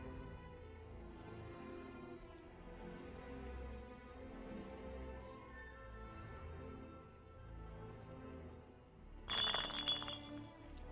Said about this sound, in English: A bottle dropped in disbelief.